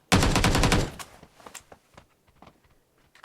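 Thompson submachine gun firing in the NEW STATE Mobile battle royale game: one loud, rapid automatic burst lasting under a second, followed by scattered fainter single shots and impacts.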